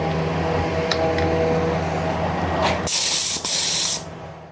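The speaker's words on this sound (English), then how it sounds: "I tried to work a spray gun." A spray gun used in a DIY respray of a VW Transporter T5 gives a loud, hissing burst of spray, briefly interrupted, then stopping after about a second, following a quieter background hum.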